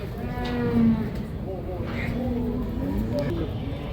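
Simmental heifers and cattle at a busy livestock market in Karakol, a few low moos rising over steady crowd noise and voices talking nearby.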